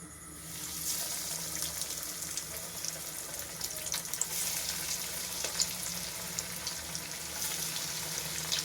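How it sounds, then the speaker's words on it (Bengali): A loud, steady hiss of flattened rice pakoras frying in hot oil starts after a moment and continues evenly with small crackles. "এবার এতে এক এক করে চিড়ের পকোড়াগুলো সব দিয়ে দেব।"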